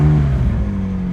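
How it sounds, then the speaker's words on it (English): Engine of a 2020 McLaren 600LT Spider, a steady low rumble close by, loud at first and settling slightly toward a smoother idle, with no talking. "you're gonna hit this start engine button right here"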